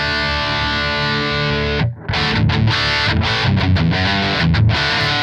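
A distorted electric guitar runs through the NAM enhancer on its brilliance setting, a loud sustained chord cutting off briefly before rapid strummed chords resume with a bright, saturated tone and no talk.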